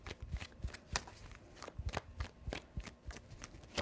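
Deck of tarot cards being shuffled close by, a rapid series of papery riffles and flicks in an uneven rhythm, quiet and without talk.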